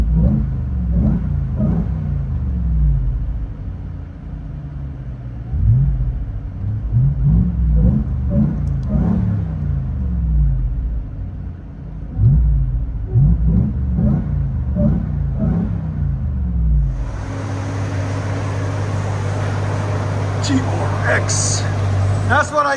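From inside the cab, a RAM TRX with a 6.2L supercharged HEMI V8 and Carven TR Series exhaust blips and revs in repeated surges, then settles into a steady, droning cruise with a faint higher whine.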